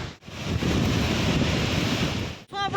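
Loud, steady roar of Jang waterfall in Tawang, Arunachal Pradesh, mixed with gusting wind buffeting the microphone, continuous and close, with a brief dip near the end.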